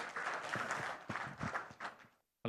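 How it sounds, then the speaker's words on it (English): An audience at a business investment summit session applauding, a sustained burst of many hands clapping that ends abruptly, then a brief other sound after a short gap. "Can we have a round of applause,"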